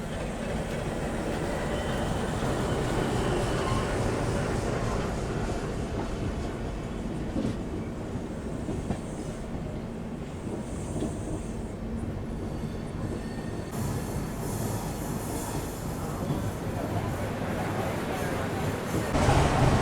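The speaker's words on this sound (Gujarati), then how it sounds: "તો ભાઈ આપણી ટ્રેન આવી ગઈ છે" Okha Veraval Express arriving at Rajkot Junction railway station: a steady low rumble of rolling coaches and wheels on track runs throughout at a constant, fairly close level, with faint squeal and clatter near the end.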